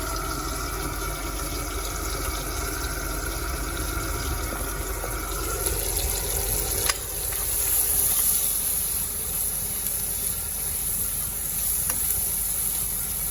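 Crispy chicken or smoked tinapa fish frying in a pan, a steady close sizzle with faint stirring and watery crackle that runs throughout without any talk.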